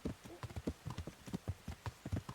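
Horse hooves clip-clop at a steady walking rhythm in the medieval video game Kingdom Come: Deliverance, a close run of evenly spaced thuds on a dirt road with no talk over them.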